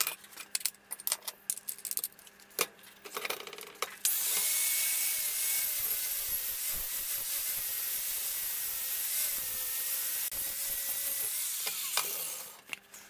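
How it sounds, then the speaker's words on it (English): A 60 grit flap disc grinding a welded sheet metal sculpture, a loud, steady high-pitched abrasive whine running continuously for several seconds after some preceding clatter, then cutting off near the end. "This is a 60 grit flap disc."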